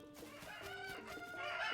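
Chickens cluck and squawk in Zelda: Tears of the Kingdom, a short burst of close, busy fowl calls that builds slightly toward the end, with no talk.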